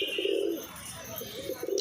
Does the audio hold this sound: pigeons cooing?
yes